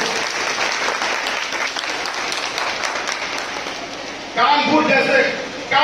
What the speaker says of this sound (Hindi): तालियों के साथ आपका स्वागत करें